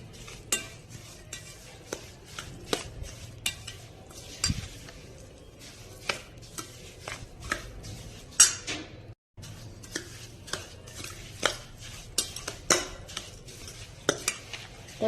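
Red chili being mixed into oily pickle masala for a whole raw mango pickle, heard as a spoon scraping and clinking repeatedly against a metal bowl in a steady, close rhythm, with a brief dropout partway through.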